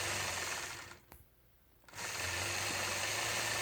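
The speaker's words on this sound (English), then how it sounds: "I'll continue on stitching one more scallop" Sewing machine running steadily while stitching a quilted scalloped border, a continuous mechanical whir that briefly stops for under a second midway, then resumes.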